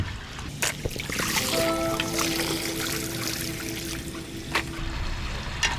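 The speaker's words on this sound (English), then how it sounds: "we're gonna go ahead and check the flow through the vacuum" Water rushes steadily through the hose of an automatic pool vacuum, a continuous broadband flow with a faint whine and a few brief knocks.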